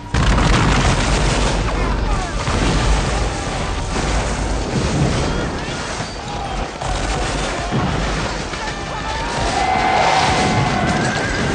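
Battle sound effects of a colonial or Napoleonic-era fight, with dense rolling booms of artillery and volleys of gunfire, continuous and loud throughout, with faint shouting mixed in.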